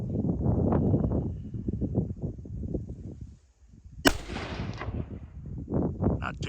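American-made Enfield rifle, over 80 years old, fired offhand: one sharp, loud crack partway through, following an interval of low outdoor rumble and handling noise, with a ringing decay afterwards.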